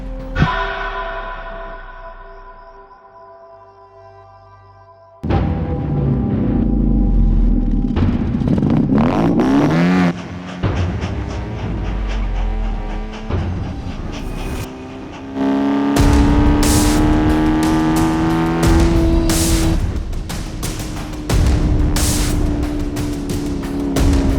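Vauxhall Nova Mark II modded with a 1.6 engine driving, a loud close engine note that revs up and drops through gear changes, with sustained acceleration and some rumble, no voices.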